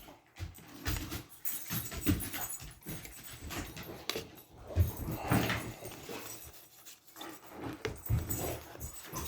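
Dogs in the background of a room during a tabletop card game, with scattered whimpers, scuffles and soft thumps at moderate distance, fairly faint and uneven.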